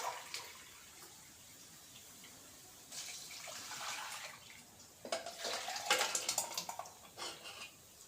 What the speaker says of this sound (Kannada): ಇಷ್ಟು ನೀರು ಹಾಕ್ತಾ ಇದ್ದೀನಿ.